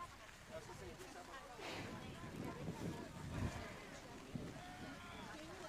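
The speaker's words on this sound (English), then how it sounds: "The wind's picking up." Wind gusts across a varsity high school football field, rumbling and buffeting the microphone in waves, with faint voices audible underneath.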